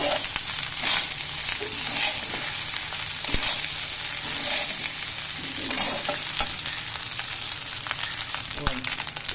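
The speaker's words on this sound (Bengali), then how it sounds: "সুন্দর করে ভেজে নেব।" Rice for a breakfast dish fries in a pan while being stirred, a steady close sizzle broken by repeated scraping strokes of the spoon.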